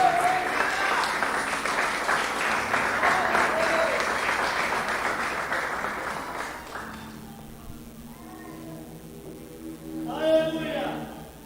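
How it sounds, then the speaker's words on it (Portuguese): Church congregation applauding loudly and steadily for about seven seconds, then the clapping fades as voices and speech take over near the end. "aplaude a Jesus o mais forte que você puder."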